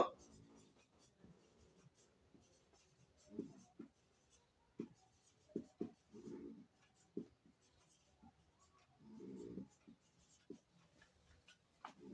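Examples are written out by hand for a Bengali grammar lesson. Quiet, close scratching strokes come in short irregular bursts with pauses between words, and nobody talks.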